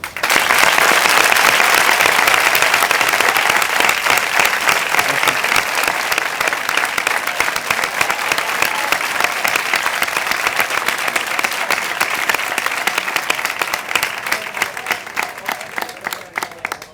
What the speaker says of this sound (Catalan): M'agradaria demanar un gran aplaudiment per a ell.